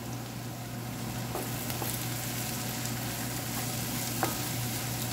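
Garlic frying in a pan for squid tentacles gives a steady, moderately loud sizzle. A few soft stirring taps rise over it, and no one speaks.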